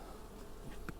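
Honey bees buzzing inside a nucleus hive frame full of capped brood, a steady close insect drone with a brief louder buzz near the end.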